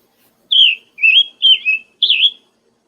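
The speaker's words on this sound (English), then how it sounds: "You see that bird, Philip?" A songbird sings four clear, bright whistled phrases in quick succession, close and loud against silence, with no talking over it.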